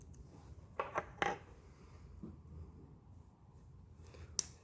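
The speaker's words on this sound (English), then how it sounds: "let's go ahead and get the next one open, which is gonna be the scissors" Someone opens the scissors on a SOG PowerPint multi-tool: a few faint, close metallic clicks and snaps in an otherwise quiet room, with one sharp final click.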